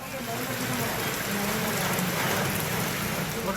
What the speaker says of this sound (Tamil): வேலூர் மாவட்டத்தில் பலத்த காற்றோடு கூடிய கனமழை பெய்தது